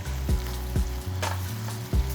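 A molasses and brown sugar mixture sizzles in a pan on low heat, a steady close fry with a few soft low knocks.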